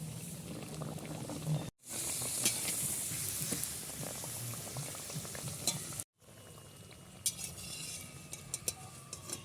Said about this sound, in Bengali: একটা পালং পুরি ভাজা হয়ে গেছে খুব সুন্দর করে ভেজে নিলাম যাতে ভেতরে কাঁচা না থাকে আর একটা পালং পুরি দিয়ে দেবো